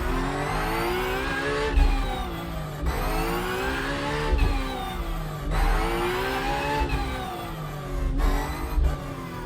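A race car in a racing simulator laps the Sebring circuit, its engine repeatedly revving up through gears in rising sweeps with shift dips, loud and steady, no voices.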